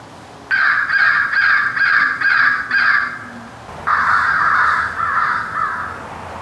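A large bird caws in an outdoor amphitheater: a rapid run of five or six harsh, evenly spaced caws, a short pause, then one long drawn-out caw, loud and fairly close.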